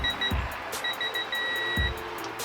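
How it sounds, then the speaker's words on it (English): A digital torque wrench gives a steady electronic beep for over a second after a couple of shorter tones, with low thuds before and after, close and clear, while torquing a Jeep 4.0 liter engine rod. "So it's actually a long beep"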